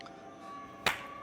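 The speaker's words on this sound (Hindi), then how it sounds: "बजा ताली।" A single sharp hand clap meant to switch on lights through a sound sensor rings out in a quiet room, one crisp isolated smack near the end after a low hum.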